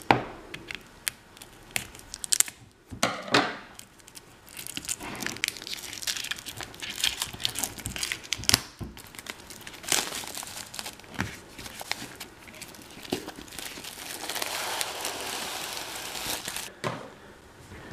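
Album packaging for a deluxe edition being cut open, with close, irregular crinkling and scraping of cardboard and plastic wrap, several sharp crackles and slicing sounds over about eighteen seconds with no talking.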